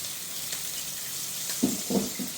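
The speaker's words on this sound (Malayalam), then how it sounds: "ചെറിയ മത്തി കിട്ടിയിട്ടുണ്ട് അത് ഫ്രൈ ചെയ്യുന്നതാണ്" Small sardines fry in a pan, a steady close hiss of sizzling oil with a few brief bubbling pops near the end. No one speaks.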